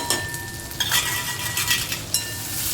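Drumstick leaves fry in moong dal while a utensil stirs and scrapes the pan, giving a steady sizzle broken by several clinking strokes, close and clear with no talk.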